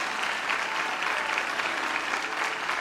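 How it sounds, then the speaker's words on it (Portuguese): A church congregation applauding the Lord, a dense, continuous patter of clapping from many hands, moderately loud and even throughout the short stretch, with no voices standing out. "Aplauda ao Senhor em nome de Jesus."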